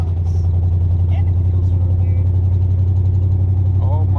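A Ford Crown Victoria Police Interceptor idles with a deep, steady V8 rumble, loud and close, while a person talks briefly over it.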